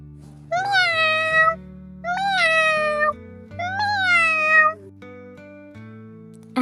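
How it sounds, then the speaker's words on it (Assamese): A cartoon cat gives three clear, close meows at an even pace, each one rising and then falling, over a soft background music bed. "আৰে, কিজানিবা মেকুৰীটোৱে ওচৰতে আছে।"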